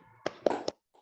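A small group claps out the 'tepuk semangat' chant during an ice-breaking session in a classroom, giving three sharp, close bursts of claps in a quick rhythm, with a faint voice right at the end.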